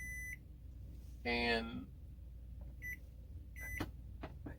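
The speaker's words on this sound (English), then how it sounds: "I keep hearing beeping and I don't know where it is." Short electronic beeps sound in separate groups of tones, a longer harmonic chirp among them, clear over a low hum with a brief spoken word nearby.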